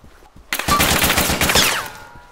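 Loud, close automatic gunfire in Arma II rips out as a rapid burst of shots after a brief quiet start, then cuts off, leaving a short fading tail.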